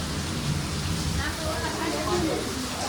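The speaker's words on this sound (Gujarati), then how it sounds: "અત્યારે સારું છે પણ ઝરમર છે" Steady light drizzle patters in a continuous hiss with soft scattered drops, fairly close, with no voices.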